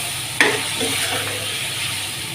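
Mutton pieces and spices such as chilli roasting in a pan for dhaba-style gobhi gosht, a loud steady sizzle opening with a sharp scrape or clink of a spoon, then continuous frying hiss.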